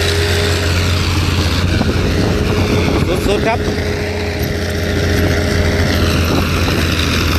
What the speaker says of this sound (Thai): วันนี้ผมพามาดูรถไถรถแท็กเตอร์ครับตัวนี้เป็นแท็กเตอร์ครับ